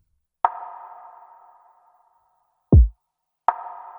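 Soloed percussion and kick drum samples in a sad RnB beat: a sparse, simple pattern of ringing sonar-like pings with long fading tails, broken by a single deep kick thump, clean and isolated.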